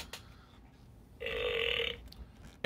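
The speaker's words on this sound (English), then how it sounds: "And he burps." A talking Ninja Turtle action figure lets out a single electronic burp, a bright buzzy blast lasting under a second that stands alone between quieter stretches.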